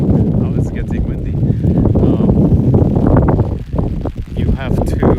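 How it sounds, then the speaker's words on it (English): Heavy wind buffets the microphone with a constant low rumble and gusty roar, muffled voices faintly underneath. "Oh, it's getting windy."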